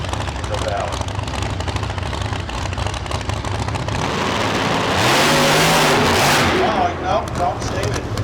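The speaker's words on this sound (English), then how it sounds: "Bang on that throttle a few times." A drag race car at a street car event idles with a rough, lumpy rumble, then its engine is revved hard in a loud burst of throttle blips; crowd noise and talk sit beneath.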